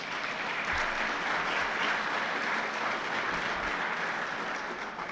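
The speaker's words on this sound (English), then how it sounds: "So if everyone could give all these folks a big round of applause." An audience at a scholarship panel discussion gives a sustained, even round of applause, a dense wash of many hands clapping throughout with no talk over it.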